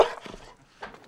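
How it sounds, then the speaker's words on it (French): A golden retriever at home gives a few soft, close whimpering yips with short gaps between them, fairly quiet. "Elle, c'est Diva, un golden retriever adopté il y a moins d'1 an"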